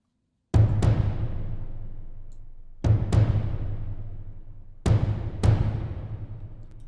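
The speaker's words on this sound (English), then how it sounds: "that's kind of where the thunder of the drum is coming in" Deep drum hits boom and rumble in pairs, three times, each resonant strike decaying slowly with low thunderous reverberation, no voices.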